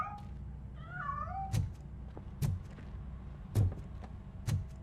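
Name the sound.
cat meowing while escaping, from video game Robocop: Rogue City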